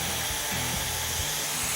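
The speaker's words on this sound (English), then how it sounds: "They'd probably envy my electric drill," A steady power-tool whine with a low rumble, droning continuously and close by, with no voices.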